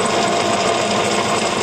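A DC202 vegetable dicer machine set for celery runs at 139 RPM with a steady, close, rapid mechanical chatter and no pauses.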